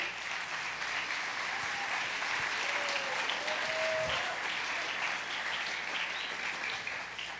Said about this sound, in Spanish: Démosle un fuerte aplauso, por favor.